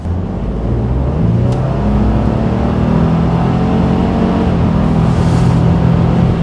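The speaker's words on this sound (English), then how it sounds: "I'm gonna give it a little gas here." A Ford F-150 Tremor with the EcoBoost engine accelerates in extreme cold, a loud, steady low engine drone that builds and holds throughout with no one speaking.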